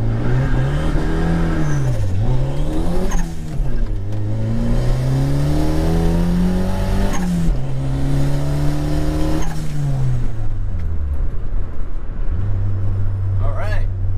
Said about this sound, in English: We did a huge burnout, basically.